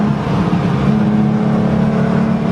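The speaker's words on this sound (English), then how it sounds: "But this is a race car." A race car engine is heard from onboard during rookie training, droning loud and steady at a constant pitch, close and with no talk.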